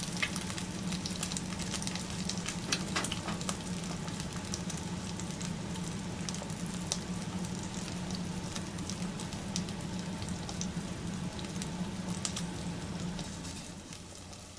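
Three eggs fry in a pan for huevos rancheros, a steady close sizzle with fine crackling pops running continuously and fading slightly at the end, with no talk.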